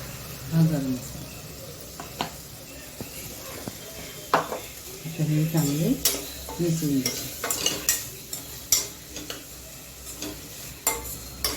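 Sweet masala paste is stirred into suran (yam) curry frying in a pan, with repeated scraping, clinking spoon-on-pot knocks and a soft sizzle, plus brief bits of a voice.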